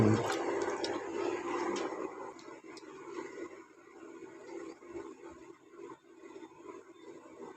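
Cold water trickles and splashes softly as it is poured from a clay pot into a vessel, faint and close, with quiet background noise and no voices.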